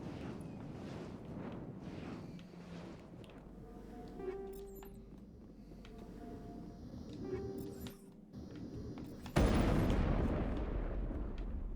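A grenade goes off in the Mass Effect video game: after quieter combat clinks and distant thuds, a sudden loud, broad blast erupts and its heavy rumble lingers to the end.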